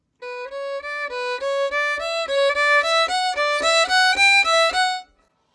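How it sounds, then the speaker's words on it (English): A solo violin plays a run of steady eighth notes from a Bourree excerpt, each bowed note distinct and evenly spaced, climbing gradually in pitch and growing louder toward the end before stopping abruptly. "we played that violin excerpt there"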